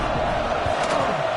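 A steady, dense crowd roar fills a college football video game stadium after a long kick-return touchdown by Arkansas, sustained at an even level for the whole moment without any distinct peaks.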